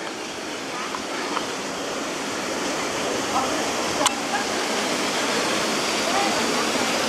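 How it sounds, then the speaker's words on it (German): A small stream of water runs out of a rock slope on a Bohemian Switzerland hiking route near Pravčická brána, making a steady, broadband rushing flow close by that holds constant throughout. "So ein kleiner Wasserlauf, der da rauskommt."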